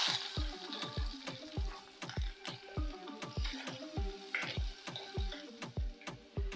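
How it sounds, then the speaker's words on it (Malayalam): Chopped onion frying in a pan of hot coconut oil with mustard seeds and garlic, a steady sizzle broken by many crisp pops and ticks, heard close up with no talking. "1 ഉള്ളി മുറിച്ച് കൊടുക്കുന്നുണ്ട്."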